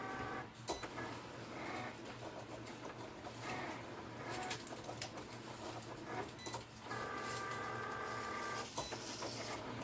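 A Cricut cutting machine works through a design, giving a faint, steady mechanical whir with periodic motor shifts and soft clicks as the carriage moves, quiet and continuous with no talk.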